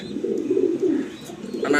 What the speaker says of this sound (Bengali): দেখার মতো এক পিস নর কবুতর